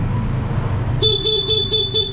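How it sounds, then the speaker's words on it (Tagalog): A Honda Click V2/V3 scooter's stock horn beeps in a quick series of about five short, bright toots, loud and close over a low idling engine. "pag uh, stock horn"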